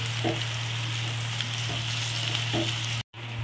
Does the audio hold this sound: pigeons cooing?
no